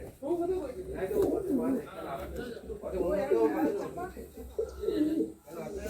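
Pigeons of Madrasi and Punjabi breeds in a newly opened loft at Chandipur, Medinipur, cooing softly and steadily nearby while someone talks over them for the whole stretch.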